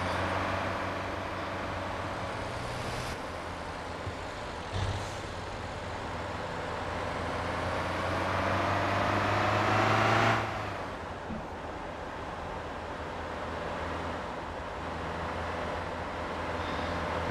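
An old Mustang sports car engine in the video game Motor Town: Behind The Wheel hums steadily with a rising and falling pitch as it accelerates and shifts, a smooth synthetic-sounding motor drone.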